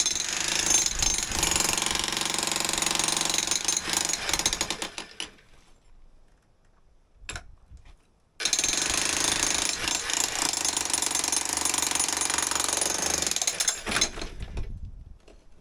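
Hammer drill breaking through a 17 cm concrete wall, loud continuous percussive hammering close by that stops for a few seconds with a brief burst, then resumes before tapering off.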